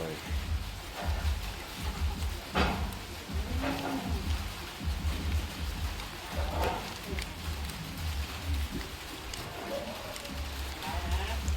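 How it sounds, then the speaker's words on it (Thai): Rain falls steadily on a roof and ground outside a house where concrete is being poured, a continuous soft hiss with occasional thuds, and voices talking faintly underneath. "ฝนก็ตกเลย"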